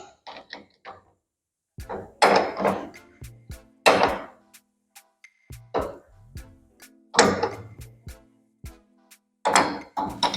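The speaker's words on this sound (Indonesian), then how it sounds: "Jangan lupa tool post ini, pengencang tool postnya kita kencangkan." A lathe's tool post and cutting tool are tightened in a machining workshop, giving a series of sharp metallic knocks and clanks in irregular bursts, close and fairly loud, with pauses between them.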